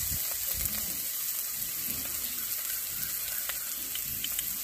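Green chili paste goes into a pan of fig curry being sautéed, giving a steady hiss and sizzle with faint crackles throughout.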